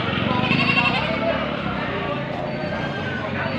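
A large group of goats at a livestock market bleats continuously, many overlapping calls close and loud, with people talking among them.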